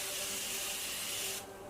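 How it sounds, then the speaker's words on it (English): A Morphe Coconut Bliss setting spray bottle releases one continuous close, airy hiss of fine mist that stops abruptly after about a second and a half. "Coconut Bliss setting spray"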